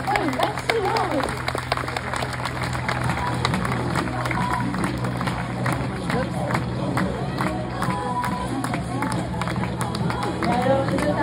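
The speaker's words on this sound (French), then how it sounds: "je pense qu'on peut l'applaudir une nouvelle fois" Zoo audience at a sea lion show clapping steadily and fairly loudly for several seconds, a dense crowd patter with murmured chatter and a voice speaking over it.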